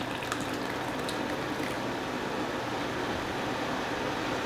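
Water pours into a canning pot for water-bath tomato canning, a steady, full hiss of liquid filling the pot throughout, close and fairly loud.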